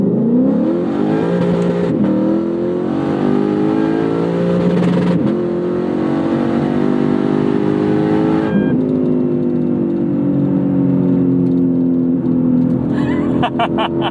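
A track-prepped Lexus IS F sedan engine revs up hard and loud from close by, its pitch climbing in repeated pulls and bouncing off the rev limiter, with no talk over it.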